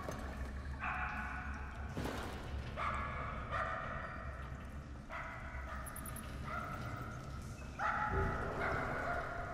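A dog barks in repeated short bursts, several yips spaced across the clip, fairly close, over a steady background murmur.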